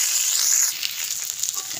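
Fried cauliflower and potato are stir-fried in a ground spice paste, making a short burst of bright sizzling with light stirring, close and continuous.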